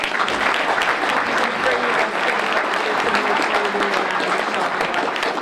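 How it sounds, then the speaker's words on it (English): An audience at a ceremony gives dense, continuous applause that stays loud and even throughout, with no break in the clapping. "Please give these fine people a hand clap."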